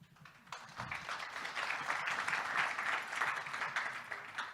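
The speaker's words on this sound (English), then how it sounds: "I just wanted to say a good round of applause to everybody." Conference audience applause: a steady wash of clapping from a crowded room that builds quickly and holds at an even level for several seconds, heard from a moderate distance.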